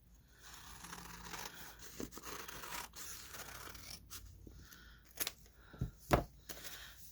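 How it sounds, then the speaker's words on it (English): Scissors cutting paper for a gift bag Christmas journal craft: faint, close snips and rustling paper handling, with a few louder crisp cuts toward the end. "this has to be cut down to size"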